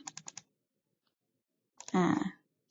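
A computer mouse clicks four times in quick succession to select and open a file, close and crisp, followed by a pause and then a short burst of someone speaking.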